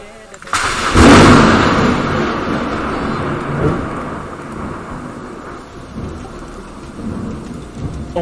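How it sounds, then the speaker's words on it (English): A loud thunderclap from a storm rumbles close by and rolls on for several seconds over steady heavy rain drumming on a surface. "Isn't that thunder?"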